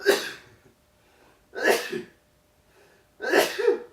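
Three sharp sneezes in a row, evenly spaced about every second and a half, close and fairly loud with quiet gaps between.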